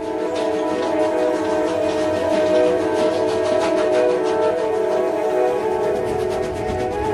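A Nilgiri Mountain Railway steam train rumbles past steadily and loudly, its engine drone and rattling carriages continuous throughout with no pauses.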